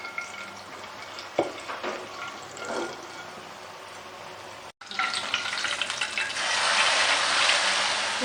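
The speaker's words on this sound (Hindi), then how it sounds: "यहाँ पर हम देसी घी को पिघलाकर तड़का तैयार कर लेते हैं छोटी इलायची के साथ" Desi ghee with green cardamom sizzles in a pan over full flame for a tempering, a steady crackling fry that surges louder and brighter midway, as if poured into the hot dish, heard close.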